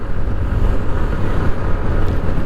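A TVS Jupiter 125 scooter cruising steadily, its engine a loud, continuous drone buried under heavy wind rush, with no change in pace.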